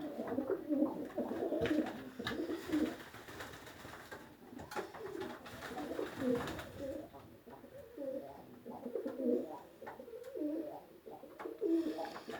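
Budapest tumbler pigeons coo in repeated soft, rolling phrases, several birds close by with a low murmur and faint background noise between calls.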